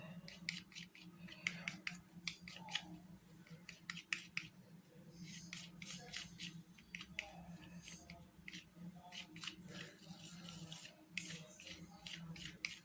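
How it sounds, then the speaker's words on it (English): Soft brush bristles swish and scrub rhythmically through blue and pink paint in a small pan, a quiet, continuous wet rubbing with short repeated strokes, close and faint against a low steady background hum. "I'm going to mix them together and see what color"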